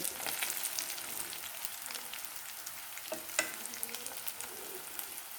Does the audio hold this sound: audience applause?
no